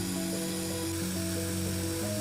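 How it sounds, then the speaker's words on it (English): A power drill whirring steadily as it mixes two-part epoxy resin in a 2:1 ratio, a continuous motor hum with slight pitch shifts, fairly quiet and close, with no talking. "use a drill to mix them thoroughly"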